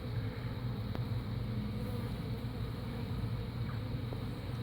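Honey bees swarm at the entrance of a large apiary hive during a robbery, making a constant low droning buzz that stays steady and fairly faint, with no voices.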